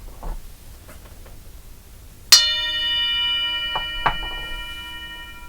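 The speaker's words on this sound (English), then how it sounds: "I'm going to ring the bell." A meditation bell struck once, a sharp metallic strike followed by a long, clear ringing tone that sustains and slowly fades, with faint light knocks and rustles around it in a quiet room.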